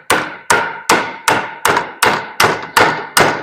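Light hammer taps on a driveshaft part for a 1950 Chevy, nine evenly spaced metallic strikes, each ringing briefly before the next, close and clear with nothing else heard.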